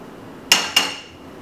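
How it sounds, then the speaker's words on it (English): A kitchen gas stove's front burner being lit: two quick sharp igniter clicks about a quarter second apart, close and fairly loud, each trailing a brief hiss, with no talking. "Gonna use the front burner. Light your stove."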